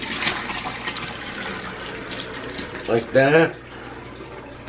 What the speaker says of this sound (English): what we need to do now is strain that broth